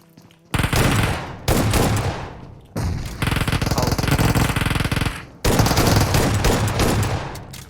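Repeated S12 shotgun blasts in a PUBG Mobile match, three dense bursts of rapid, loud gunfire separated by short pauses, with no talking over them.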